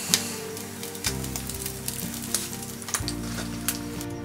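Steady crackling sizzle of a thick-cut breaded ham cutlet deep-frying in hot oil, with bursts of popping and bubbling, close and continuous with no voices.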